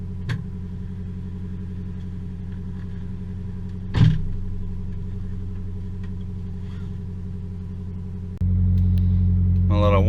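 A Nissan 240SX with a swapped SR20DET engine and Haltech management idles while warming up, a steady low rumble with a sharp knock near four seconds, then stepping up louder and heavier toward the end.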